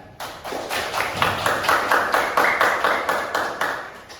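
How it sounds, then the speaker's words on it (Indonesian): Students in a classroom clap together in a steady rhythmic pattern, about a dozen evenly spaced group claps, close and fairly loud with no talk. "Tepuk tangan."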